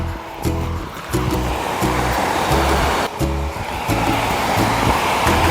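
Khlong Lan waterfall in Kamphaeng Phet, Thailand, gives a steady, loud wash of rushing water that carries through the whole stretch, with brief bumps and knocks near the microphone.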